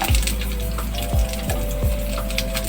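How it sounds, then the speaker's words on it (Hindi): Onions fry in hot oil with a constant crackling sizzle. Several low knocks of a utensil stirring the pan sound at irregular intervals. "और इसको हम लाइट सा फ्राई करेंगे।"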